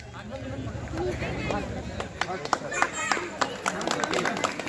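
Devotees at a village religious festival clap in scattered, sharp bursts that thicken in the second half, close and fairly loud, over a murmuring crowd and a speaking voice.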